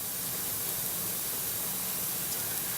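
Garlic sizzles as it is sauteed in a pan for a Thai peanut curry chicken, a steady even hiss with no voice over it.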